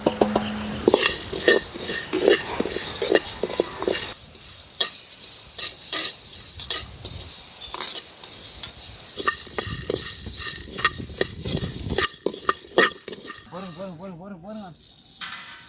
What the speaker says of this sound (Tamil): சிக்கனுக்கு தேவையான மசாலாவை நம்ம வறுத்து எடுத்துக்குவோம்.